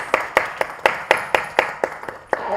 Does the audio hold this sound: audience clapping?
yes